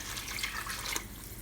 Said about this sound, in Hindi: और इसके अंदर मैंने अब पानी डालना है, वो पानी गर्म पानी डालिएगा